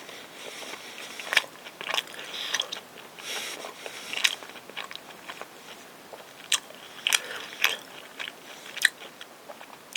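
Close, crisp biting and chewing of Ottogi frozen pizza topped with plenty of cheese, ASMR style: irregular crunchy bites with soft mouth sounds between them, heard alone in a quiet room.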